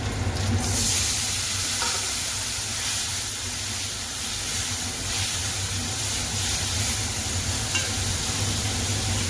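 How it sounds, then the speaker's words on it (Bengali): Spices go into hot oil while frying for a fish curry, producing a loud, dense sizzle with a sharp initial hiss, then steady spitting and occasional stirring scrapes, close by and without talk. "এবার মশলাটা দিয়ে দেবো।"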